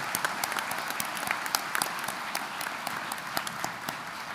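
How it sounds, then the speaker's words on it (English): Sustained applause from a commencement audience honoring standing faculty at a community college graduation, a dense, steady patter of many hands with scattered louder claps throughout. "let's give them an applause"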